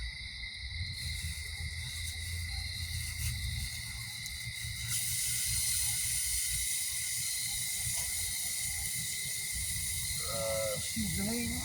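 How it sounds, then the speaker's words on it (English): Steak sizzles in a pan at a stealth campsite with a steady hiss that grows louder about halfway through. A brief voice or chirp cuts in near the end. "Sizzle, sizzle."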